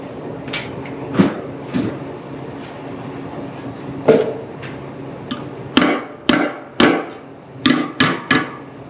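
Sharp metallic hammer strikes on sheet metal for a car airbox scoop ring out, scattered at first then coming in a quicker series of hard blows, close by in a quiet space.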